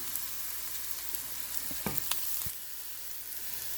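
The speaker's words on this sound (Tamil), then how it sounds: "நல்லா வதக்கி விடுவோம்" Tuna fish sautéing in a pan with tamarind powder, salt and spices, giving a steady close sizzle with a few brief clatters of stirring partway through.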